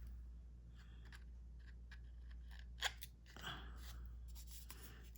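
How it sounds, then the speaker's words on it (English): Scissors snipping the ends of paper scraps for a card project, a few soft crisp cuts close by in a quiet room with a steady low hum underneath. "Okay, so I'm going to cut the ends the same."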